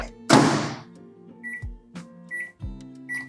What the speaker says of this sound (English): We're gonna go ahead and put it in the microwave for 90 seconds.